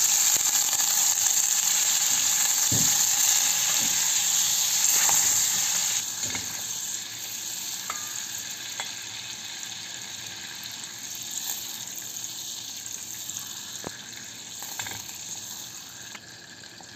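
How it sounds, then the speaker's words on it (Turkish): Steady hiss of butter melting in a pot, with occasional clinks and scrapes of stirring; the hiss softens partway through. "tereyağımızı tenceremize alalım. Eriyinceye kadar karıştıracağız."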